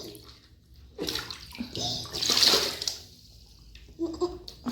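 A child plays in water at home, splashing in loud irregular bursts and sloshes close by, with quieter pauses between them.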